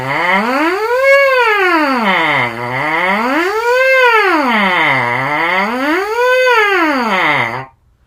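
Rising and falling siren buzzed on a trumpet mouthpiece, imitating a police siren: three smooth, loud pitch sweeps up and down in a steady cycle, played alone up close before cutting off abruptly.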